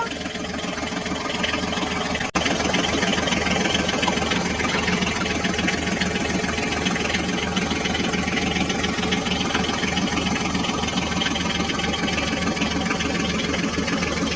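A steady toy tractor engine idles and putters loudly and continuously, a rough mechanical chug with no voices.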